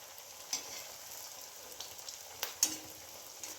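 Semolina biscuits fry in ghee on a pan with a soft, steady sizzle, broken by a few light scrapes and taps of a spatula, close and fairly quiet.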